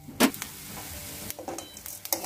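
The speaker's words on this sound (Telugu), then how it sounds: "దాన్ని వేసుకొని దోరగా వేయించుకోవాలి." Cumin and fenugreek seeds dry roast in a pan for curry leaf spice powder, giving a faint crackle with a few sharp clicks and scraping stirs and short gaps of near quiet.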